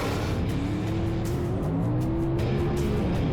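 Superstock drag racers, a Ford Falcon Ventura and a 1966 Mustang, roar at a gasser drag strip, their loud engines rising in pitch as they accelerate down the track, with tire noise under the din.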